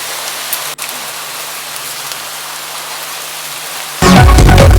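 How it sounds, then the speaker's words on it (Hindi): Steady rain falls with a soft even hiss for about four seconds, then swells abruptly into a much louder, heavier downpour near the end, with no voices present. "है ये बारिश।"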